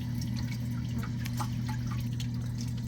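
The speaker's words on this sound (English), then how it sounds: "by turning it you can see that it's dripping slower and slower" A leaking plumbing fitting drips steadily, with small distinct droplets falling over a constant low hum, close by, with no talking.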